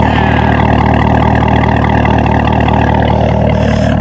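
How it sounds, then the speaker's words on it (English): A Chevrolet Corvette ZR1 with its exhaust valves open rumbles steadily nearby, a loud, low, pulsing burble with no talk over it. "You hear that pitter patter in the background. You bet I got the exhaust program open."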